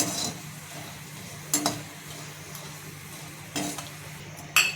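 Whole spices for goda masala fry in a pan with a quiet continuous sizzle, punctuated by several distinct scraping stirs of a spoon against the pan.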